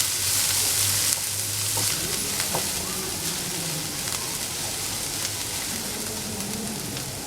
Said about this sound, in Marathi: त्यात मी आता कांदा घालणार आहे परतून घ्यायचा आपल्याला हा कांदा